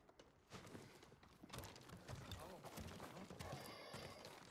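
Horses in the Ghost of Tsushima video game give a clear neigh and rhythmic hoof clip-clops, fairly close, with game dialogue spoken over parts of the sound.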